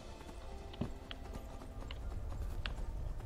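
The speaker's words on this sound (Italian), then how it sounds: "Aspetta che il mio cavallo 4x4 riesca ad arrivare là sopra." Horse hooves in the snowy mountains of Skyrim, quiet scattered clops under a constant wind-like ambience, faint and somewhat distant.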